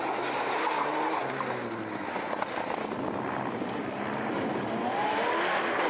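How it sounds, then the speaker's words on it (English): Number 19 Mitsubishi Lancer rally car at full throttle, its engine roaring steadily and fairly far off with a broad rushing noise and slight pitch shifts as it passes. "the number 19 Mitsubishi Lancer once again on full throttle"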